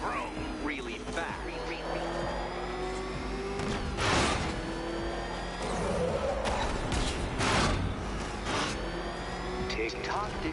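Batmobile engine in the Batman Arkham Knight video game revs and roars in repeated surges with a mechanical whine, punctuated by bursts and impacts, with a voice speaking over it.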